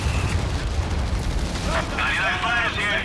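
Gunfire and explosions in a Company of Heroes-style real-time strategy battle at Mignano with US airborne troops, a dense rumbling barrage of shots and blasts, with unit voice lines and radio chatter layered over it.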